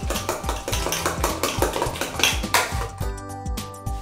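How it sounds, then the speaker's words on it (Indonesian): Fork beating batter for mushroom martabak in a bowl, rapid rhythmic clinks and scrapes of metal against the bowl, close and loud, ending in a few ringing taps. "saya akan aduk dengan menggunakan garpu"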